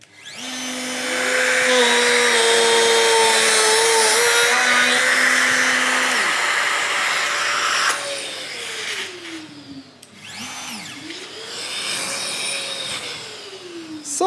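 Festool drill boring hinge cup holes with the LR 32 multi-boring system, a loud continuous motor whine that drops in pitch, stops, then spins up again, close by.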